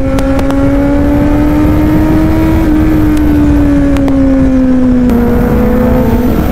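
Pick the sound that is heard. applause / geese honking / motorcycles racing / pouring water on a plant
motorcycles racing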